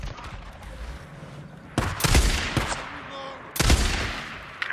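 Loud gunshots in the video game Days Gone, two sharp blasts with echoing tails over low ambient game sound.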